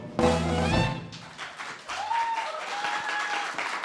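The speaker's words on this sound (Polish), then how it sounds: "Brawa, brawa, brawa dla pana Krzysztofa" An audience at a children's singing festival qualifying round applauds a contestant, a sung final note fading into a burst of clapping that carries on steadily from a roomful of listeners.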